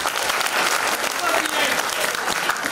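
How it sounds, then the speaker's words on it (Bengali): An audience applauds loudly after a short Bengali comic drama performance, a dense, steady wash of clapping from a crowd that fills the whole moment without a break. "একটা আপনাদের জোরে হাততালি চাই"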